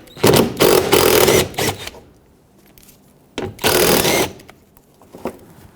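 Power tool backing out 10mm bolts from the rear bumper of a 2013-2020 Nissan Pathfinder, two loud close whirring bursts with a short gap between them, followed by quieter handling clicks.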